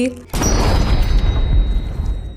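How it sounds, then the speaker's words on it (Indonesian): A blind old man shoots a robber in the head in a thriller film: one sudden, loud gunshot blast after brief quiet, followed by a long reverberating roar that slowly dies away. "lelaki buta itu menembak kepala Monet hingga membuatnya wassalam"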